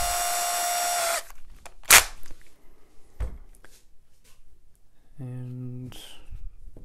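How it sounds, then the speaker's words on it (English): A power drill fitted with a bit is set running while tuners are fitted to a guitar or ukulele: a steady loud whir for about a second, then scattered clicks and handling noise and a short buzzing burst near the end. "So I'm going to put the drill bit into the drill,"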